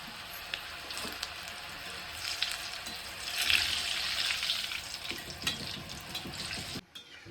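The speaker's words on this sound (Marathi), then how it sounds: "मी आता हे तेलात टाकून घेते तेल तापत ठेवलं होतं तेल पण छान असं तापलेलं आहे" Savory shankarpali made from wheat flour and mung dal deep-fry in hot oil, a soft, continuous sizzle and bubbling hiss, fairly quiet and steady, swelling slightly midway before a sudden brief drop.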